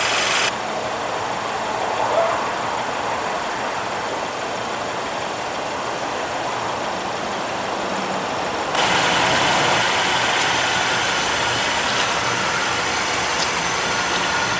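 A 2016 Mercedes-Benz GLC300 with a 2.0L turbocharged four-cylinder engine idles with a steady, even hum heard close up, growing slightly louder partway through.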